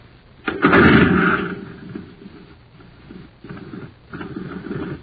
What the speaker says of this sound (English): Just listen to this jet cycle.